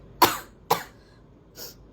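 A woman with a cold coughs two sharp, close coughs in quick succession, followed by a softer third cough after a short pause.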